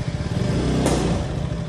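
A Honda motorcycle engine runs close by while the bike is parked on a roadside, a steady low rumble with a brief clatter midway.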